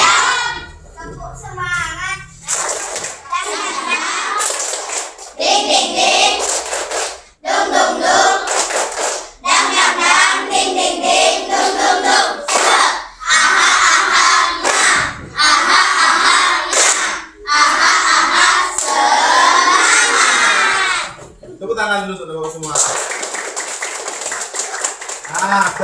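A group of children in a classroom chant in unison and clap in rhythmic bursts during an Indonesian clapping ice-breaker, loud and close, with short pauses between rounds of the clapping routine.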